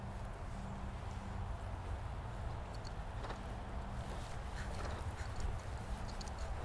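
A horse walking at a steady pace during a riding exercise, its soft hoofbeats faint and regular under a constant background hum, with occasional faint noises but no talking.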